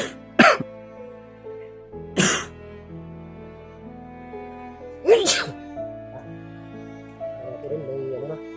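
Several sharp coughs, three distinct bursts spaced a couple of seconds apart, loud and close over a quiet background with a faint voice near the end.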